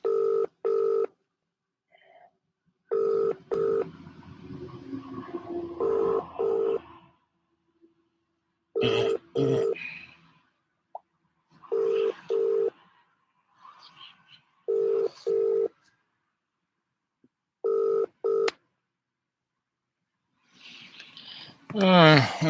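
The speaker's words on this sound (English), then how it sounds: "Answer the phone, Anthony." Telephone keypad tones and repeated ringback beeps play in short, evenly spaced bursts while a call waits for an answer, with gaps of silence between them and a person speaking intermittently over and between the tones.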